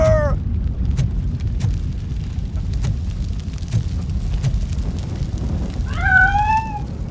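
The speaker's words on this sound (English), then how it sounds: "I can't leave without my little kitty!" A cat in the game RoboCop: Rogue City meows at the start and again near the end, with sharp clicks and a low rumbling game ambience between the calls.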